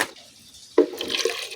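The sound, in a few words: water being poured into neem mixture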